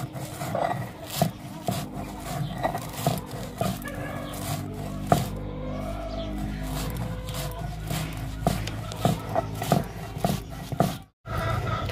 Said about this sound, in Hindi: इसे सिलबट्टा में पीस लेते हैं